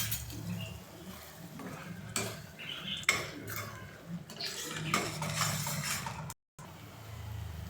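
A spoon stirring carrot halwa in a metal pan with ghee, raisins and cashews, steady scraping and clinking of utensil on metal, close and continuous with a brief gap near the end, no speech.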